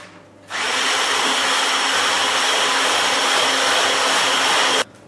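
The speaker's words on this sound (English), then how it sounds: "now we're just gonna beat that again so that everything's mixed together" An electric hand mixer whirs steadily at high speed through red velvet cupcake batter, starting abruptly after a moment of quiet and running loud and continuous for about four seconds before cutting off.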